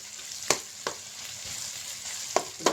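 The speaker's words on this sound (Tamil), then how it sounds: "நல்லா ஃப்ரை பண்ணிப்போம்" Egg rice ingredients frying in hot oil in a pan, a steady close sizzle with a few sharp pops and crackles scattered through it, no voices.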